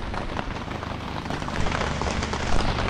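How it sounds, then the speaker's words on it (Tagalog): Heavy rain suddenly pours down in Dingalan, Aurora. It is a dense, steady hiss of rain beating on surfaces that grows slightly louder toward the end, and no one speaks over it. "Sakto yung dating, biglang bumuhos ang ulan mga pare koy."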